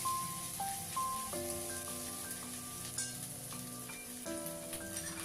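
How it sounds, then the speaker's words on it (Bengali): Ginger and garlic paste frying in oil while being stirred for a bhetki fish jhal: a soft, steady sizzle set well behind louder background music. "মশলাটাকে তেলের সাথে খুব ভালোভাবে একটু নাড়াচাড়া করে ভেজে নিতে হবে"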